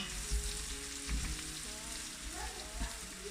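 Ginger going into a hot pan for rougail saucisse, a steady close sizzle with soft stirring bumps and scrapes, no talk.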